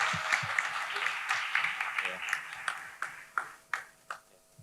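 A comedy show audience in Semarang applauds as a comedian is called to the stage. The clapping builds under an announcer's voice, then thins into a few louder, separate claps near the end.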